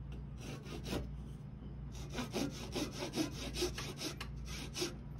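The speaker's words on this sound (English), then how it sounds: "This I definitely like to use my little mini saw for." A small mini hand saw cuts wood for a turned Christmas ornament in short rhythmic strokes, a quiet rasping back and forth repeated about a dozen times.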